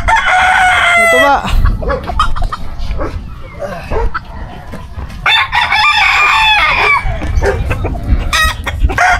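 Rooster crowing loudly in a rural Philippine yard, with hens clucking and a dog barking nearby, repeated crows rising over a steady noisy background while a voice speaks briefly.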